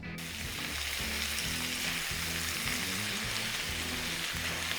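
Ground turkey sizzles steadily in a cast iron pan, a dense, even frying hiss that holds at a constant level close by with no talking.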